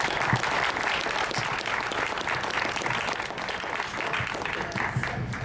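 An audience claps for a speaker at the close of a talk, steady dense applause filling the whole stretch at a fairly loud, even level with no voices over it.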